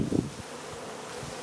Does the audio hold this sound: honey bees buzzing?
yes